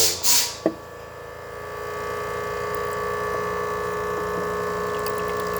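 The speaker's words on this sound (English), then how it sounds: "And then I'm going to run the pump." A Rancilio Silvia espresso machine's pump hums steadily and loudly after a brief clatter, a constant vibrating drone with no voices, pushing water through the hoses.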